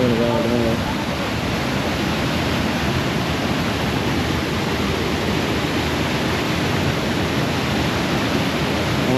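A powerful small waterfall gives a loud, unbroken broadband rush of falling water, steady throughout, with a faint voice briefly audible at the very start.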